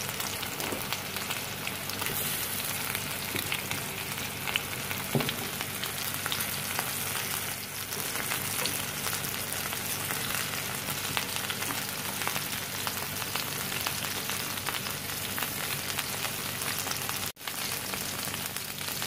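Potatoes and onions fry in a pan for corned beef hash, making a dense, steady, rain-like sizzle that holds evenly throughout at moderate loudness, with no voices.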